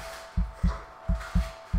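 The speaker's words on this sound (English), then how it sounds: "And then the heartbeat." A heartbeat sound effect from the horror video game Until Dawn thumps in a steady, low rhythm, five soft beats under a faint electrical hum.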